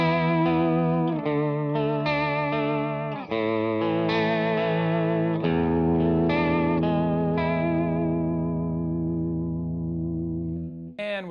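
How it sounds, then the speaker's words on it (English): Sustained electric guitar chords through a Boss vibrato pedal, with a wavering, pulsing pitch wobble, ringing out in a slow progression and fading at the end, with no talking. "here it is with the Boss vibrato."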